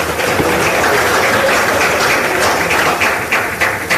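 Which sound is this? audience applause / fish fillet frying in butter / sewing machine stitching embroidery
audience applause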